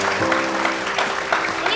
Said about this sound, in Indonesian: Sini, tepuk tangan buat Mbak Eca.